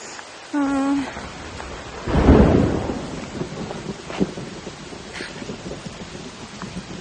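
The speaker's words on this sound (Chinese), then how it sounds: "打雷了，听到没有？" A deep rumble of thunder rolls in and fades over several seconds amid steady rain on Gunung Pulai, a mountain in Johor, Malaysia, with a brief tonal chirp just before it.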